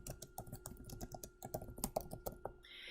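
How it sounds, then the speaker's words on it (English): Someone types a question on a computer keyboard, a quick run of close, crisp key clicks in an uneven rhythm, with a couple of heavier taps near the end. "So they would type it in and just hit enter onto their computer"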